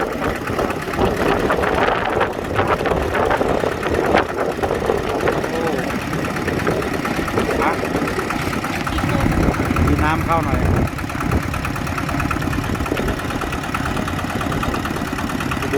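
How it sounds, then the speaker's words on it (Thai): A tractor's Siam Kubota Elephant-brand engine idles loudly and close after restarting, a steady low chugging rumble with knocking beats, while people talk over it. "เดี๋ยวจะลองสตาร์ทดูว่า เครื่องยนต์ยังโอเคหรือเปล่านะ"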